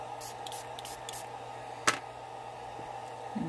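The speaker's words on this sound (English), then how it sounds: "I'm going to spray it again." A handheld mister sprays alcohol ink on a crafting surface in several short, soft hissing bursts, then one sharper spray, close up and with no talking.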